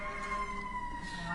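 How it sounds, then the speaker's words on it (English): A siren wails steadily outside during a live broadcast of a Colorado court trial, a sustained, moderately faint tone heard through the room audio with no talking over it. "and we have a siren again"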